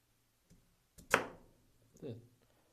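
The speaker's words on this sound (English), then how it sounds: "The sharpened one feels a lot better going through the sweet potato." A sharpened chef's knife slices through a firm sweet potato, one crisp chopping cut followed by a softer second cut, close and fairly quiet, with no talking.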